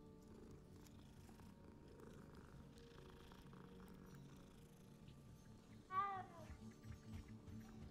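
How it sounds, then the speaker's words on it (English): A cat in the Hogwarts Legacy video game purring steadily while being petted, a soft continuous rumble with a short meow near the end and no talking over it. "The cat, we can pet a cat"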